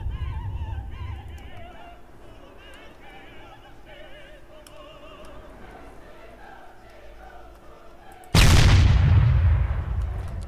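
A T-100 Varsuk tank cannon fires in Arma 3: one sudden heavy boom near the end with a long rolling decay, after a quieter stretch of rumbling engine and battle noise with a voice talking.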